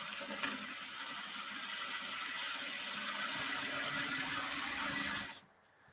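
A quiet sewing machine running steadily while stitching a straight back seam on a shirt, a continuous close mechanical whir that holds evenly for about five seconds and then stops abruptly.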